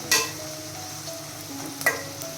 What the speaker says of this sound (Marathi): आता याला हलवूया मस्त, मस्त तळून याच्यामध्ये गेले हळदीमध्ये